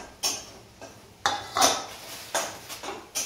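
A cooking pot holding a dish seasoned with garam masala and mutton masala is shaken and knocked about, giving about five distinct metallic clanks and rattles, spaced unevenly and heard close and alone.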